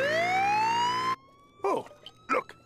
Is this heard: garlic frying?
no